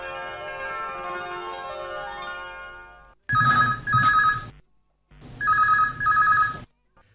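A telephone rings in two loud, close bursts during a radio phone-in call on the Akashvani Akola station, following a stretch of music that fades out.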